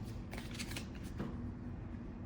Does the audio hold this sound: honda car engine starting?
no